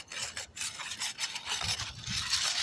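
Asphalt roof shingles being scraped with loose granules sprinkling off, a steady close, gritty rasping that keeps going without a break and with no talking.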